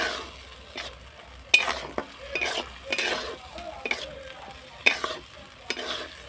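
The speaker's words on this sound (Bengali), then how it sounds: "এবার আমি মশলাটা ভালো করে কষিয়ে নেব।" Spice paste with shelled peas stir-fried in a pan for a prawn and cauliflower curry: crackling sizzle broken by frequent sharp scrapes and knocks of a spatula, close and lively, with no talking.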